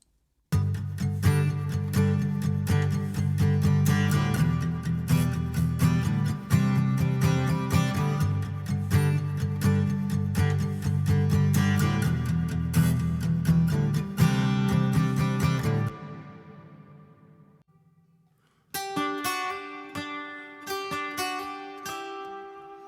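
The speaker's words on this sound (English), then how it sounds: "If we just hear the actual guitar up here on its own," An acoustic guitar strums alone, full chords ringing steadily, then fades out briefly before lighter picked notes return.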